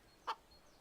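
A chicken in a Counter-Strike match gives one short, faint cluck alone over a quiet background hiss.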